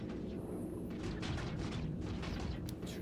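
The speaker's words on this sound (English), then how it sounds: "Turrets are shooting." Turrets firing in a space video game produce a dense run of booming, crackling shots over a rumbling base, with bursts clustering in the second half.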